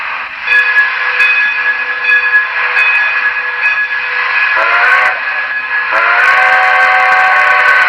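Model railroad steam locomotive pulling passenger cars sounds a long sustained whistle, loud and close, with a couple of pitch-shifting toots near the end over a steady hiss.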